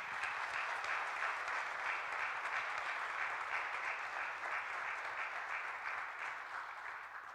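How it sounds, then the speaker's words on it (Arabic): Congregation applause at an Easter mass in a cathedral in Erbil, Ankawa, 2021: sustained, even clapping from a large crowd in a reverberant hall, slightly distant and fading a little at the end. "صفقوا جميعا،"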